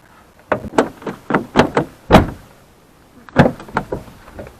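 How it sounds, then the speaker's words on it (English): A Dodge RAM truck door after a mirror replacement, tested with a series of sharp, close knocks and thuds in two bursts, a loud slam near the middle, with no talking. "Now we'll see if the door shuts and doesn't hit the pillar here."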